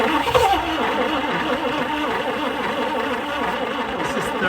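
A 1960 Chrysler Saratoga with a 383 V8, wrecked and long unused, cranks and runs roughly. A steady, loud, close engine drone holds throughout without breaks.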